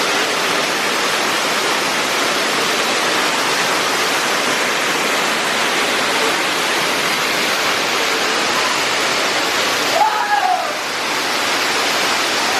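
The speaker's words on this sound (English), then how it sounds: "We're right underneath the volcano waterfall." Heavy, steady roar of water pouring from the volcano waterfall at a Florida water park, heard from right underneath it; continuous broadband rush fills the whole clip with a brief faint voice near the end.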